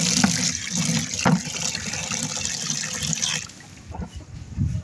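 Water pours steadily into a drinker for chickens, a close, continuous splashing trickle that eases off near the end, with no speech.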